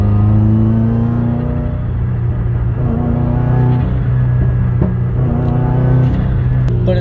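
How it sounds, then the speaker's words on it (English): A Subaru WRX engine fitted with a Torque Solution pitch stop runs with a loud, steady low rumble and a mild wavering in pitch as the revs fluctuate, heard close with no talking. "It still does shake the motor a little bit, enough that it fluctuates my RPMs when I do it."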